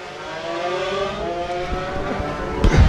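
Race cars on the green flag lap at Tattershall circuit, engines droning steadily with overlapping harmonic whine, close by, with a brief louder burst near the end.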